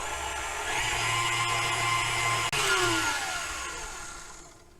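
An electric hand mixer whirs steadily as it blends cocoa butter into waffle batter, a loud close motor drone with a brief stutter midway before winding down and fading.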